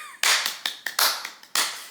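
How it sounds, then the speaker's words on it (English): Several sharp, close hand claps in an uneven rhythm, some single and some in quick pairs, each loud and crisp against silence. "Clap."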